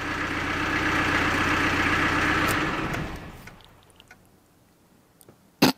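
A Peugeot's Indénor diesel engine idles with a steady, knocking rumble for about three seconds, then the ignition is switched off and it winds down to quiet, followed by a few faint clicks and one sharp knock.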